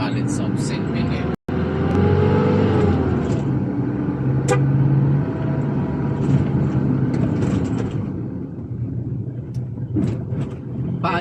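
A car pulls out of the College of St. Benilde campus onto busy Taft Avenue in Manila, its engine rumbling steadily amid continuous street traffic while someone talks throughout.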